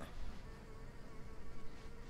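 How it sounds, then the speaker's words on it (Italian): Houseflies buzz in The Sims 4, a faint, steady insect whine that wavers slightly over about two seconds with nothing else heard. "Ci stanno le mosche, non è un bel vedere"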